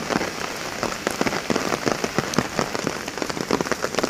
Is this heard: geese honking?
no